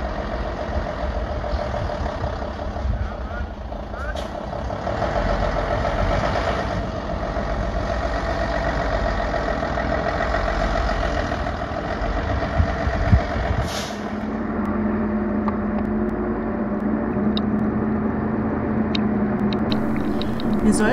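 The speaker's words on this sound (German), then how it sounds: "Detlef zirkelt unsere Strixa durch die enge Hofeinfahrt, die eigentlich nicht für so große Autos gebaut wurde." A large expedition camper truck's engine runs steadily at low revs as it edges through a narrow farmyard driveway. The rumble stays close and continuous, with a few faint knocks and a slightly deeper tone near the end.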